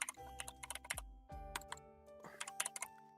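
Rapid typing on a computer keyboard, close and fairly quiet, with irregular bursts of clicking keystrokes separated by brief pauses and a steady background hum.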